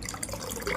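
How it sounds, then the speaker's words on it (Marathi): Water poured into yogurt for kadhi in a home kitchen, a short soft splashing trickle close by with no talk. "आता त्या दह्यात पाणी टाकायचं."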